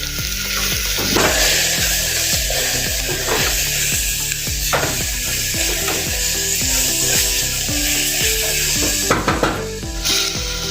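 Masala of turmeric and red chili powder stirred in a sizzling pan for a toor and chana dal, with steady frying hiss and repeated scraping strokes of a spoon against the metal, close and continuous.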